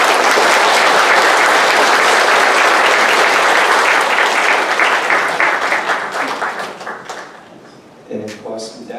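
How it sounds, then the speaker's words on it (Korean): A church congregation breaks into loud, dense applause welcoming a pastor, sustained for several seconds, then thinning out toward the end as a voice begins to speak. "우리 박수로 한번"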